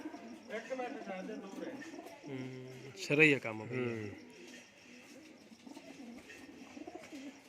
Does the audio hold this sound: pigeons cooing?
yes